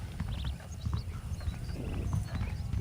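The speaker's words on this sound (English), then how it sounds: "The horses are saddled up over here." Horses clip-clop steadily in the Western video game Red Dead Redemption, quick hoofbeats close by with a brief whinny and faint background ambience.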